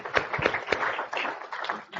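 Conference keynote audience applauding, a dense patter of many hands clapping at moderate volume, steady for a couple of seconds with faint voices underneath.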